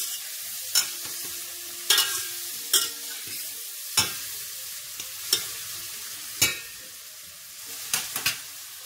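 Shrimp sizzle in melted butter in a pan, with a steady soft frying hiss broken by sharp periodic clinks and scrapes of a utensil stirring, close and clear, with no talk.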